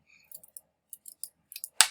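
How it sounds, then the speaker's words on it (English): Sharp scissors snipping out cut pieces, a handful of quick crisp clicks and snips ending in one louder cut, close and alone. "One of the frustrations is trying to cut out things and not having sharp scissors."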